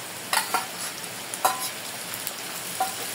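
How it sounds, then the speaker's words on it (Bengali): Shrimp frying with onions in hot oil, giving a soft, steady sizzle broken by a few louder scraping and stirring bursts, close and without talk. "পেঁয়াজের ভিতরেই চিংড়ি মাছগুলো একটু ভাজা ভাজা করে নেব।"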